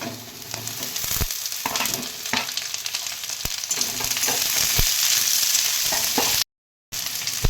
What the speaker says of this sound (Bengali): পেঁয়াজগুলো দিয়ে একটু জাস্ট সতে করে নেব, তারপর ক্যাপসিকামটা দেব